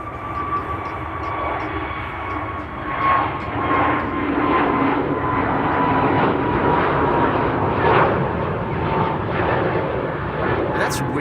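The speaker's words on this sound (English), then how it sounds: "So we now have 2 Indigo Dreamliners that are wandering around the platform area." IndiGo Boeing 787 Dreamliners taxi at Amsterdam Schiphol, a steady broadband engine roar with a sustained whine, continuous and fairly loud for the whole stretch, while people talk over it.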